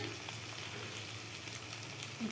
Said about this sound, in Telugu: మంచిగా ఫ్రై అయింది. కాకరకాయ సూపర్ మగ్గింది.